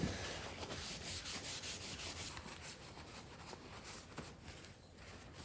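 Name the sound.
wiping dark wax off a thrifted decor piece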